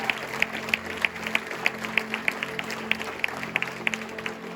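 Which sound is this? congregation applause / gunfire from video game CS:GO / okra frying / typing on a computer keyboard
congregation applause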